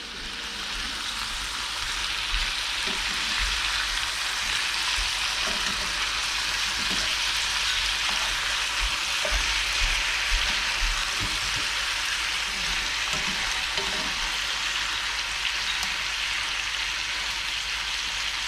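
Chicken frying in a single pan for a Mediterranean chicken and rice dish, a steady, dense sizzle with soft crackles and pops running continuously throughout, fairly loud and close.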